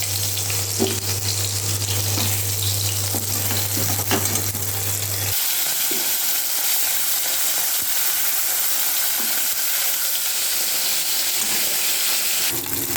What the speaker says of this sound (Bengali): মাছ ভেজে নিচ্ছি আমি, তারপর মশলাটা লাগবে।